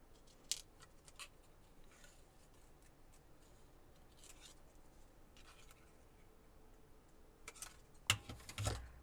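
Scissors snip a figure out of paper in a quiet room, several soft crisp cuts spaced apart, ending in a louder burst of cutting close up.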